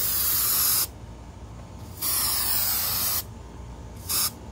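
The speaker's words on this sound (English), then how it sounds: "we're gonna spray it on these seams where we're putting it back in" Three hissing bursts from an aerosol can of spray glue applied to the seams of an evaporator coil: two long sprays about a second each, then a brief short puff, with quieter pauses between.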